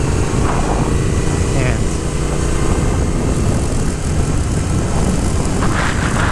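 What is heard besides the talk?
Triumph Speed Twin motorcycle engine at full RPM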